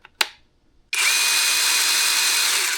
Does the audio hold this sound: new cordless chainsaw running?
yes